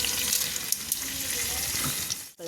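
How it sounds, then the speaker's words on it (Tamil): Hot oil sizzles steadily with a dense, crackling texture and scattered pops, close by, as mustard seeds splutter in the pan. "இப்போது அதை தாளிக்கிறதுக்காக ஆயில் ஆட் பண்ணியிருக்கேன். கடுகு உள்ளே போட்டிருக்கேன்."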